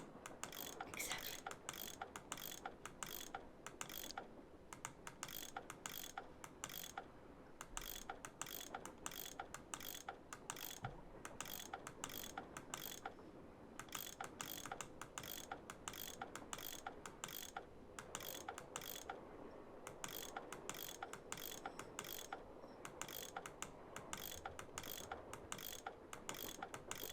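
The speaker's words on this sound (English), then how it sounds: "I bet that's what you use to unscrew these bolts" A tool ratcheting bolts loose in the Nancy Drew video game, a long run of rapid, evenly spaced mechanical clicks in repeated bursts with brief gaps, steady and close, no talk.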